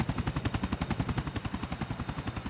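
Grand Theft Auto IV gameplay: rapid, steady rotor thumping of a helicopter, loud and continuous, with no voices.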